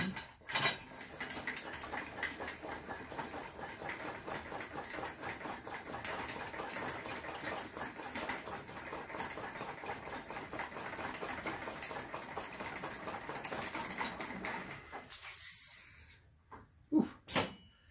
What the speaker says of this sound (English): let's pressurize this sucker again